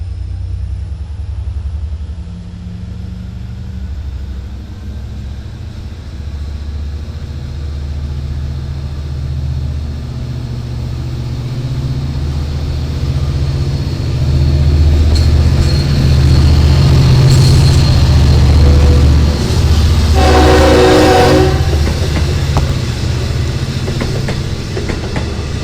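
A Long Island Rail Road diesel train on the Port Jefferson Branch rumbles past in stormy weather, its engine and wheel noise building loudly, with a strong horn blast sounding near the end.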